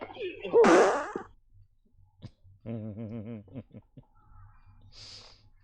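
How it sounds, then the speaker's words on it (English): A comedic fart noise from a fart machine in a game plays loud and brief near the start, followed later by a short bit of talk and a faint higher sound. "my mom has this thing about the fart noises and fart box, the fart machine"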